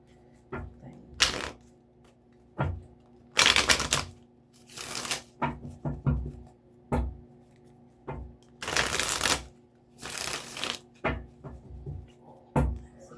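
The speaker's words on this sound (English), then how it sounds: "That was a good clean shuffle" Tarot cards being shuffled by hand in repeated bursts of crisp riffling and slapping, close and loud, separated by short pauses with quiet background hum.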